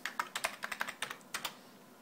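Keystrokes on an Altair 8800 computer terminal keyboard, a quick irregular run of about a dozen crisp clicks at close range, with no voices.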